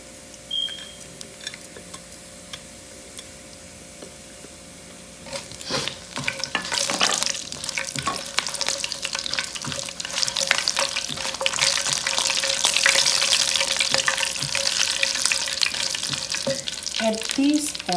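Cumin, black pepper and bay leaves sizzle in hot oil as they are stirred in a pan, starting quiet then rising into steady crackling frying with scraping stirs and a faint beep at the start.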